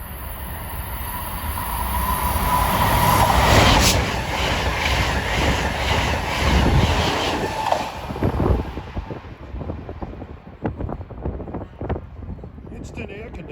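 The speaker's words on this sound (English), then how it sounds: "Train approaching." An Amtrak or MBTA commuter train rolls into a Boston-area station, building to a loud, wind-buffeted rumble, then giving way to rhythmic clickety-clack of wheels over rail joints as it passes close by, with talk over it.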